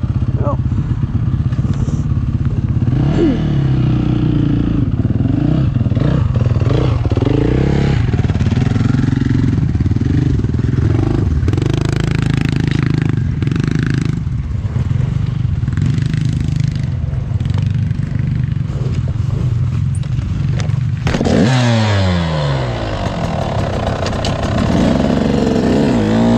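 Enduro motorcycle engine running steadily through a difficult turn, loud and close throughout, with revving swells and a sharp throttle change near the end, under a voice talking.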